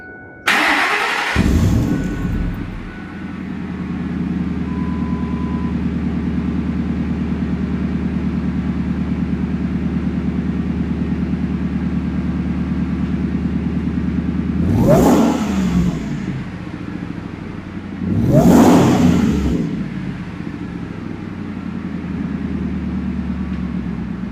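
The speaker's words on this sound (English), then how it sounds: "This truck has a side exit exhaust, and I tell you what, this thing sounds amazing." A 2003 Ford SVT Lightning pickup with side exit exhaust starts up and settles into a deep, steady rumble close by, then revs sharply twice with loud throttle blips before dropping back to idle.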